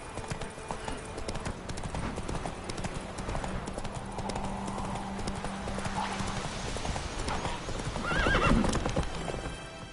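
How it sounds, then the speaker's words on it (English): Hooves clip-clop steadily as a horse moves in The Witcher 3 video game, with a whinny rising near the end, alongside game music and ambience; a voice is also heard briefly. "Not so fast, Roach"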